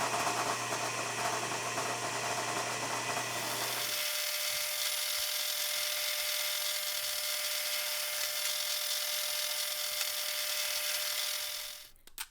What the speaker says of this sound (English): I can head over to the drill press and drill them out